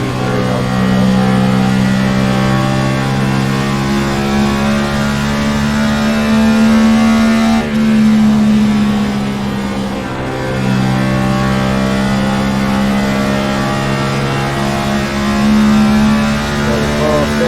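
A 406 race car engine on a track straightaway screaming at high revs past 9,000 RPM, loud and sustained with a close, steady harmonic whine that dips briefly and climbs again.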